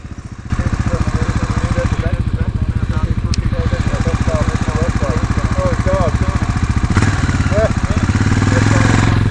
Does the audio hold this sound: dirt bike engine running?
yes